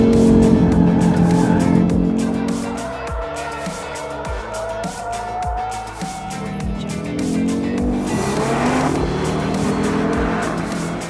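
A 2022 Audi RS3 (8Y) drifts, its engine roaring loud and steady while tires squeal in long sustained bursts, with rhythmic revving pulses as it slides through repeated turns.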